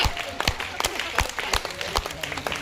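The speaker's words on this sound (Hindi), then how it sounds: "तालियां कौन बजाएगा?" Applause rises and falls from an audience at a Hindi kavi sammelan poetry gathering, with scattered bursts of clapping blended with crowd murmur and indistinct voices.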